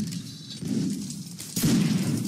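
Musket volley fire in a Napoleonic Wars line battle in Mount and Blade, heard as rolling, overlapping shots and booms, with a louder burst of fire arriving partway through.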